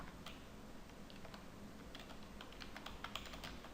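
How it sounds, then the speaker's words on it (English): Fingers type on a computer keyboard in a quick, uneven run of light clicks, faint against a steady background hiss, with no voices. "let me type something here"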